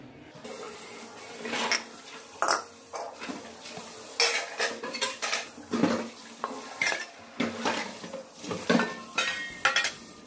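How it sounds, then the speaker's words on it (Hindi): Dishes, pots and metal utensils being hand-washed in a home kitchen, with repeated clattering knocks and bright clinks at an irregular rhythm, close and fairly loud, and no talking. "मैं अपने बर्तन फटाफट धो रही हूँ।"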